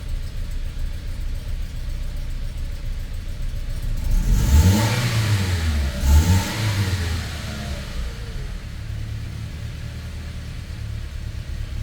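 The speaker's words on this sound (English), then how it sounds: "the idle's getting better every time I rev it" A 2011 Toyota Tacoma 2.7L four-cylinder, running on reused injectors with a slight misfire, revs up twice from a rough idle, rising and falling loudly nearby before settling back to a steady idle rumble.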